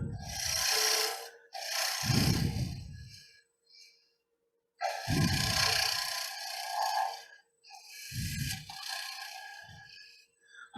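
Scraper trimming the edge of a wood turning for a cocktail smoker on a lathe, heard as three or four loud, rasping bursts of cutting, each a second or two long, separated by brief quiet gaps, with no talk.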